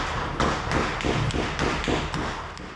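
Gunfire in a battle, a group of Ukrainian soldiers surrounded by the enemy: a series of sharp thuds and cracks at an irregular rhythm, fairly loud and continuous over a noisy background.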